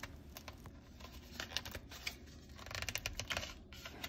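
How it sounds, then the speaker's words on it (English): A sticker being peeled off a 10.25 inch Lodge cast iron skillet, giving close, quiet bursts of crackling, tearing paper and adhesive, uneven and scratchy across the whole stretch with no talking. "So let me peel off the sticker attached to the pan."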